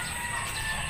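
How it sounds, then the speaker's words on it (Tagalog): Chickens in their pen, brown egg layers, give a soft continuous clucking with faint crowing-like calls, steady and fairly quiet throughout with no one speaking. "Ito yung hotel ng mga manok ngayon."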